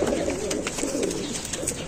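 A racing pigeon coos softly nearby in Catbalogan City, a short, low murmuring call over light background noise.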